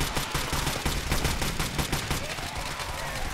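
Automatic and rifle gunfire in the combat video game Arma 3, dense rapid bursts of shots crowding together at high volume for a few seconds, with no speech over it.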